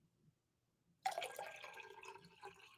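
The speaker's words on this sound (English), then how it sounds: "I'm going to pour a little bit more tea here and get some caffeine in me." Tea poured from a pot into a cup, a steady trickling splash that starts abruptly after a second of near silence and carries on close and moderately loud to the end.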